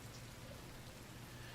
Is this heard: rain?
yes